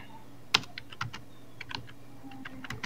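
Typing on a computer keyboard in Microsoft Word: a quiet, irregular patter of key clicks with one sharper tap near the start, close and alone over faint room hum.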